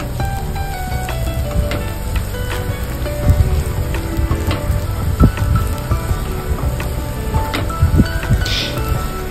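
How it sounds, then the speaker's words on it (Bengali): Chopped garlic and ginger fry with minced chicken in a pan as they are stirred, a loud, continuous crackling sizzle broken by sharp scrapes and taps from the spoon. "এবারে ভালো করে আমি এইগুলো সব একসাথে নাড়াচাড়া করে নেবো"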